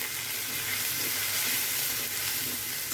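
Chicken curry with red chili powder sizzling loudly in a pan while being stirred, a dense continuous crackle and hiss close up with no voices.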